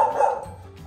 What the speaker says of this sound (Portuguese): Tem um cachorrinho ali, bonitinho.